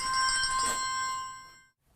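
A phone ringtone plays a bright, tonal electronic ring for about a second and a half before cutting off, close and clear, with no talking.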